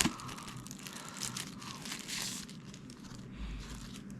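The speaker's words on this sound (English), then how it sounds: "now let's get it out of this plastic bag" Close, crisp crinkling and rustling of a plastic bag being handled while unboxing an Anker Powercore power bank, in short bursts for a few seconds.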